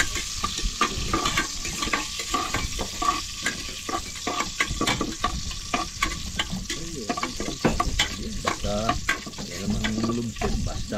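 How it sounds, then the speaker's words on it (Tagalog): Garlic sautéing in a pan with steady sizzling and repeated scraping stirs of a utensil, close and loud, continuing throughout with only faint speech in the background. "Simula na ng pagigisa ni tatay yung bawang muna."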